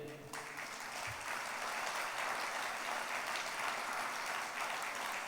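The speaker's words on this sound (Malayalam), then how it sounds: "ഒന്ന് കൈയടിച്ച്" A congregation claps at a Christian sermon, a continuous, even wash of many hands that builds quickly and holds steady, somewhat distant and soft.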